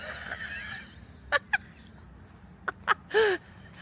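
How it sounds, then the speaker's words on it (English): Several short, harsh rooster crows burst out in quick succession, loud and close, ending in one longer drawn-out cry over a quiet outdoor background in a cruise port. "we got some roosters making some crazy noises"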